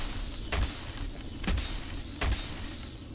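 Glass shatters three times in the F.E.A.R. video game, evenly spaced sharp crashes about a second apart, each a bright burst over a steady background hum, with no talk.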